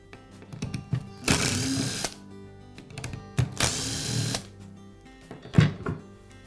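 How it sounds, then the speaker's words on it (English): Screws are removed from the cord clamp on a Makita reciprocating saw housing with a power tool, heard as three loud, close whirring bursts separated by small clicks and handling noises. "Now I can remove the cord clamp that secures the cord to the housing."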